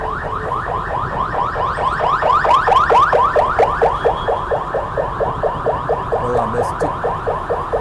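An ambulance siren wails on a road, its rapid repeating warble loud and close, with steady traffic rumble underneath throughout.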